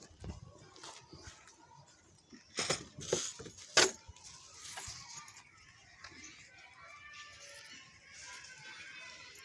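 Metal keys, or wrenches in a workshop, jangle and clink in several bright bursts, loudest in the middle, amid scattered mechanical rattles and faint background noise.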